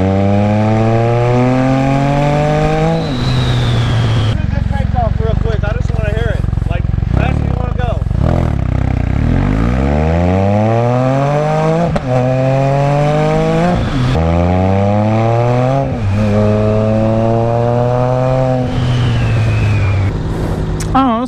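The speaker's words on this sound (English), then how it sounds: "Do a normal takeoff and then do race and takeoff." A motorcycle engine revs hard for a race takeoff, climbing through the gears in repeated rising sweeps with short drops between shifts, very loud and close, with a voice briefly heard.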